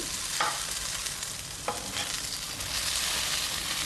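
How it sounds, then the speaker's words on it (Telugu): Brinjal pieces fry in oil while a ladle stirs them slowly over a medium flame, a steady close sizzle with two sharp scraping stirs standing out. "మనం స్లోగా గరిటెతో ఇలా తిప్పుతూ ఉండాలి."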